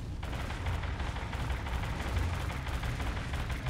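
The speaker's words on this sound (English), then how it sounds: "I hear gunshots and I see flashing." Gunfire in the video game Primal Carnage Extinction comes as a dense, continuous rattle of shots that stays loud and unbroken, with no speech.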